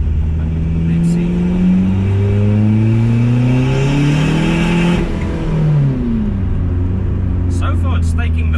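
A turbocharged car launches off the line, engine revving hard through rising gear pulls with whirring boost, loud and close from inside the cabin; a voice speaks briefly near the end.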